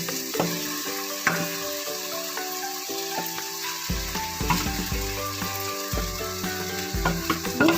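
Beef marinated in masala is added to frying tomato and onion, giving a loud, continuous sizzle with scraping stirs and metallic clinks of a utensil against the pan.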